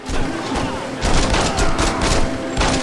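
Heavy gunfire rattles in quick successive volleys in a Saints Row 2 shootout, loud and close, with thumping impacts pulsing through the steady barrage.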